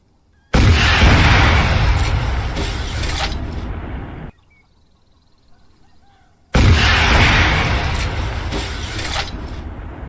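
Soldiers fire guns in two loud, close, booming shots, each followed by a long fading rumble, with a quiet gap between them.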